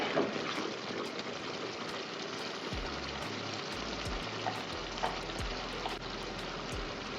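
Steady sizzle of mutton frying with green chilies in a clay pot, with occasional soft scraping stirs and a low mechanical hum underneath, no voices.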